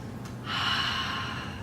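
During a yoga warrior one pose, a single audible breath comes in: a short airy exhale or gasp, close and fairly soft, with no talking.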